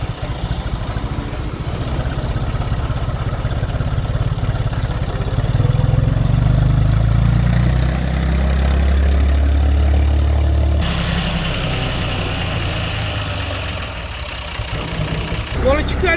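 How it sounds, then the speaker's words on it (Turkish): A steady, rumbling Massey Ferguson 240S tractor engine idles nearby throughout in a fig orchard, with people talking over it. "Daha yeni çalışacak traktör."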